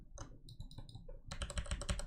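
Rapid clattering keystrokes on a computer keyboard, a few scattered presses at first and then a dense burst of fast typing, close and fairly quiet.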